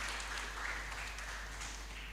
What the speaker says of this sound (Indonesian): Boleh berikan tepuk tangan untuk sesi diskusi pada pagi hari ini.